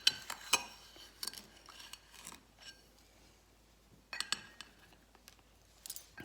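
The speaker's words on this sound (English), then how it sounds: "so pour that in this glass" A spoon clinks and scrapes against a glass while a mixture is poured in for a crystal experiment, a string of faint, sharp, irregular taps and clatters in a quiet room.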